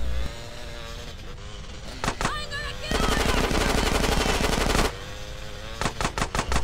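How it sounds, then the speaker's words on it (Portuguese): Loud gunfire in Grand Theft Auto: San Andreas Definitive Edition: scattered shots, then a long rapid automatic burst, a pause, and another quick volley, over engine-like background noise. "Olha o tanto de tiro que eu dei no cara, mano."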